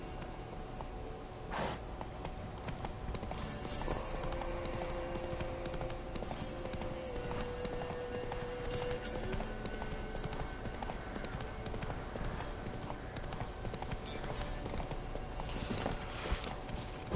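Horse hooves clip-clop steadily throughout while riding in a video game, a continuous even rhythm at moderate level over dense ambient game sound, with a faint voice briefly heard.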